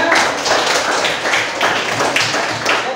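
Classroom applause for a student, a dense steady patter of many hands clapping together, loud and continuous throughout with no talk over it.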